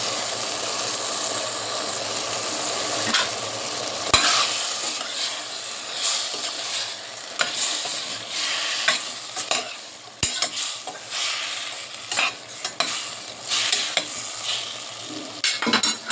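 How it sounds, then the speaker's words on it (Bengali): Washed vegetables go into a hot pan with Malabar spinach and prawns and are stirred, bringing irregular clattering scrapes of a spoon over a continuous loud sizzle and no voices. "ধুয়ে রাখা সবজিগুলো আস্তে আস্তে দিয়ে দিচ্ছি।"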